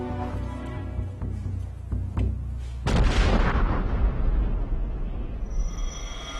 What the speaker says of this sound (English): a patrol came under artillery fire